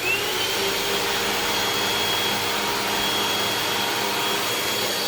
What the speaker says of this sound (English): I hear the brush roll rattling